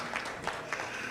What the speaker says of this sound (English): give him a clap now, he's doing real good